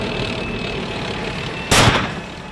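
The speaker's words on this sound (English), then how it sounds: "A tank fired at a suicide truck bomb before it could wreak its havoc." Tank gunfire aimed at a suicide truck bomb on the road toward Mosul, one sudden loud broadband blast breaking over a steady rumbling background of vehicles and distant noise.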